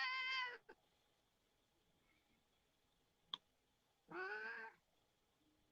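A pet cat meows twice, in two clear, fairly quiet calls several seconds apart, with a faint click in the quiet gap between them. No one speaks.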